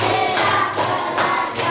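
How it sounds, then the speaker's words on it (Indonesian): A group of children in a classroom claps in short, separate bursts, about four sharp claps keeping a regular counted rhythm, close and fairly loud. "Tepuk 1, tepuk 2, tepuk 3, tepuk 4, tepuk 5"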